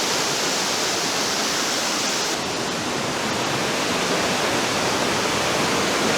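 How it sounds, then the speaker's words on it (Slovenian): A waterfall roughly 16 to 17 metres high in the Pekel gorge roars as a loud, steady, broadband rush of falling water that stays unbroken throughout. "ki je pa že tak zaresen slap. Visok je, mislim, da 17 metrov ali pa 16."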